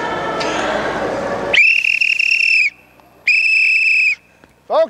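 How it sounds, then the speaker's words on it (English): Two loud, sustained blasts of a shrill whistle, each about a second long, preceded by background noise and ending with a brief squeak. "I got to do the whistle."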